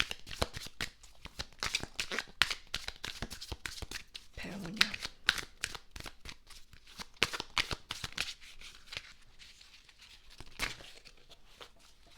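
Tarot cards being shuffled and flipped, a steady run of quick crisp riffling and flicking close up, with a soft voice murmuring briefly underneath.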